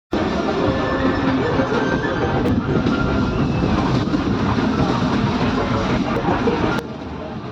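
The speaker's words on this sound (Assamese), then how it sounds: "তো ট্ৰেইনত উঠিলোঁ আমি" Steady, loud rumble of a passenger train in motion heard from inside a carriage, with continuous low wheel-and-track noise and faint clatter, lasting throughout with no speech.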